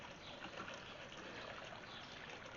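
Soft, steady trickling of water from a small water feature on a brick house patio, a faint continuous wash with no pauses and no voices.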